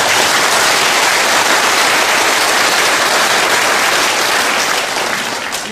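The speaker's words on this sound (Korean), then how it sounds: "박수 한번 보내주시기 바랍니다" An audience at a Korean political talk applauds loudly and steadily, a dense continuous wash of clapping that fades only slightly at the end.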